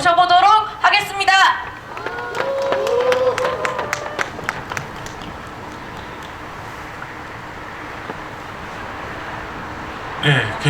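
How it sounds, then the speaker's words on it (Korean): At an outdoor candlelight rally in Gyeongju, a speaker's amplified voice opens the stretch. Scattered crowd applause and murmur follow, then a long, steady wash of clapping and street noise in the background. "큰 박수로 모셔보도록 하겠습니다."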